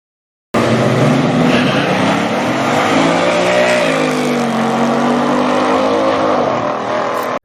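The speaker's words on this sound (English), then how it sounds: "1968 Plymouth Roadrunner." A 1968 Plymouth Roadrunner muscle car with a 383 cubic inch V8 roars in loud and close. Its engine note climbs and dips through revs in a continuous throaty drone that cuts off sharply at the end.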